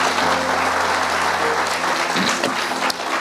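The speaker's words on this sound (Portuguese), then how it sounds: "Aplauda a Deus se você crê nisso." Church congregation applauding God during a sermon, loud, dense and sustained clapping filling the room, with a held keyboard tone beneath and a few voices briefly rising within it.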